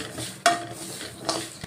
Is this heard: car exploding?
no